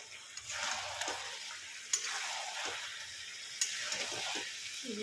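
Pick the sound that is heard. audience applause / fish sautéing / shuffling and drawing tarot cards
fish sautéing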